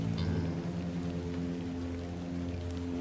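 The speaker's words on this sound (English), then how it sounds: "Like the sound of the rain hitting the umbrella and the effects on it." Steady rain patters on an umbrella during a walk in the video game The Excavation of Hob's Barrow, a dense, even hiss of drops with a low tonal ambience underneath, continuous and close, no voices.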